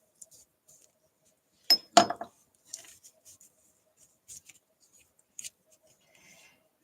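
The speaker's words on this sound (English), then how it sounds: "Let me put this lid on." A lid is fitted onto a small container at a craft table, heard as a sharp cluster of plastic clicks and a brief rattle, followed by a few faint taps and light handling sounds in a quiet room.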